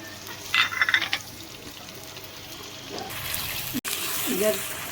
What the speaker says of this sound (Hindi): अब मैं इसमें प्याज डाल रही हूँ और इसे अच्छे से ब्राउन करके निकाल लेना है।